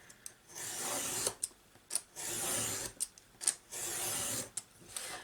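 Ivory cardstock being trimmed to size for a ring-bound journal: several short rasping, scraping cutting strokes with brief pauses between, close and fairly quiet.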